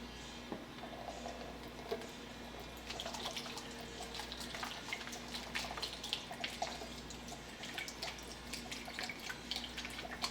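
Red wine vinegar being poured, a faint, steady liquid trickle with scattered drips and small splashes over a low constant hum, continuing without a break for about ten seconds.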